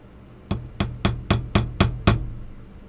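A watchmaker's small hammer taps a Hamilton balance staff in seven sharp, evenly spaced metallic strikes, close and crisp, each ringing briefly before the next.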